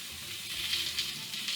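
Beyond Meat sausage and peppers in olive oil sizzle steadily on a flat-top griddle, a continuous bright hiss heard close and alone.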